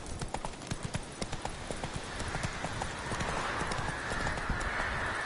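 Horse hooves clip-clopping in a steady rhythm in The Witcher 3: Wild Hunt, close and distinct at first, then blending into a louder rushing gallop with wind-like noise.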